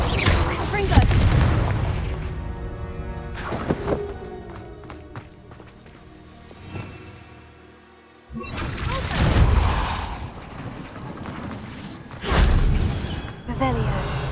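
Confringo blasting spells explode in Hogwarts Legacy, with loud, booming bursts in two heavy clusters separated by a quieter stretch with sharp cracks, all over a busy game backdrop.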